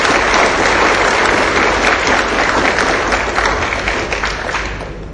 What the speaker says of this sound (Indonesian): Berikan aplaus yang meriah kepada Bapak Muhammad Arsanto Ali